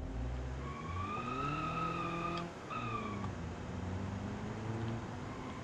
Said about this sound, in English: Tire squeal.